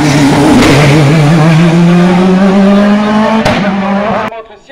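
A race car launches off the start line at the Bagnols-Sabran hill climb, its engine screaming loud and close as the pitch rises through the gears, with a commentator talking over it before it cuts away.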